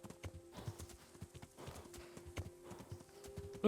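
Rapid, rhythmic hoofbeats of a galloping horse in Kingdom Come: Deliverance, steady and fairly close, with a droning background tone and no talking.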